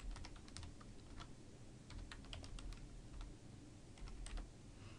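Quiet, close keystrokes on a computer keyboard tap out an email address in short irregular bursts with brief pauses between, alone in a hushed room.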